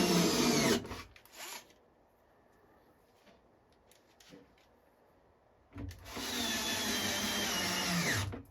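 Power screwdriver driving 3/4-inch screws into thick plastic on a Solar Fox arcade cabinet: two loud whirring bursts, one at the start and a longer one near the end, with a quiet gap between.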